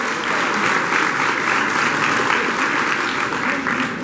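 Audience at an anniversary ceremony applauding a professor, sustained loud clapping from a hall full of people, even and unbroken throughout.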